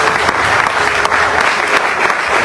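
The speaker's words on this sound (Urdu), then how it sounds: "میں چاہتا ہوں کہ اس بات کے لیے آپ زوردار تالیاں بجائیں" Loud, sustained clapping from a church congregation fills the whole stretch, dense and even with a few sharper claps standing out.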